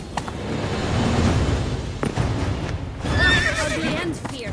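Roach, the horse in The Witcher 3: Wild Hunt, whinnies and snorts amid clip-clopping hooves and thuds, with a high neigh ringing out near the end; a voice briefly speaks.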